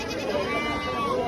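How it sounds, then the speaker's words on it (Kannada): Sheep bleat at a busy sheep market in Sagar, with a drawn-out, wavering bleat sounding near and clear over a background murmur of voices. "ಸಾಗರದಲ್ಲಿ ಕುರಿಯ ಮಾರ್ಕೆಟ್ ಇದು."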